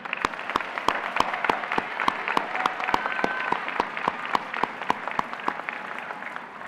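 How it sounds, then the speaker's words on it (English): An audience claps for graduates at a college commencement ceremony, with evenly spaced, rhythmic claps at a moderate level and faint band music underneath. "Let's give them one more round of applause."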